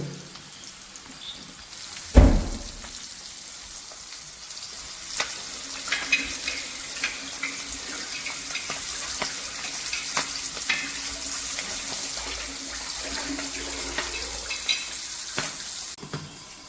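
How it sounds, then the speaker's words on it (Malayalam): Sardines fry in a pan with a steady, close crackling sizzle and scattered louder pops, with one sharp clatter near the start. No voices are heard. "അങ്ങനെ മീൻ വറുത്തു"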